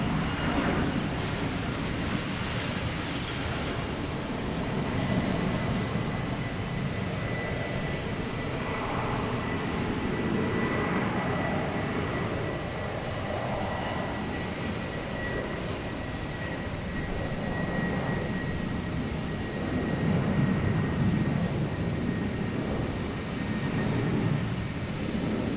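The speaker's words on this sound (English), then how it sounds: "American Airlines E175 taking off on 9, heading to Reagan" An American Airlines Embraer E175 jet takes off at Boston Logan, giving a continuous broad engine roar that holds steady over the whole span at moderate distance, with no talk.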